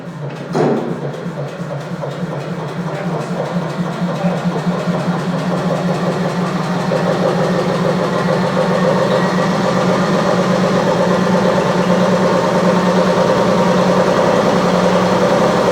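A single-cylinder two-stroke opposed-piston diesel engine of 25 horsepower, Junkers patent, in a fortification bunker, starts with a knock and settles into a loud steady thrumming run close by.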